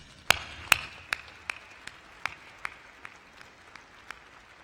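Sparse claps from an audience at a university chancellor installation ceremony. A few sharp claps open it, then single claps follow at a slowing, irregular pace with quiet gaps between them.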